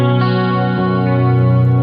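A sustained electric guitar chord through a Boss GX-10 effects unit rings out with a wide, washy reverb tail, a second strum joining partway through, loud and close.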